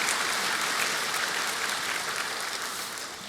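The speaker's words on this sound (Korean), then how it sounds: "영락교회와 갈보리 찬양대를 통해서 영광 받으신 하나님께 올려드리는 박수라고 생각합니다." Congregation applause fills Youngnak Church in honor of the Calvary choir's 50th anniversary: dense, continuous clapping from many hands, loud and even throughout, easing slightly at the end.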